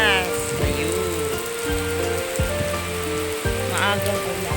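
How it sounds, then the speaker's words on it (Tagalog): Heavy early-morning rain pours steadily on surfaces, a dense continuous hiss close by, with a few brief voice-like sounds and tonal noises rising over it. "Grabing lakas ng ulan."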